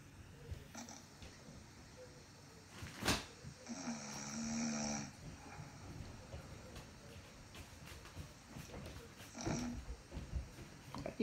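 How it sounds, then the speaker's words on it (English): A sleeping person snores faintly, with a few soft, drawn-out breaths and one clearer rasping snore in the middle over a quiet, hissy room. "Even though I snore."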